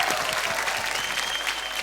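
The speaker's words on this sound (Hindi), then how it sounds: "तो एक बार फिर रॉकस्टार के लिए तालियां।" Steady applause fills a TV classroom show as a studio audience claps for a team, dense and continuous throughout with no break.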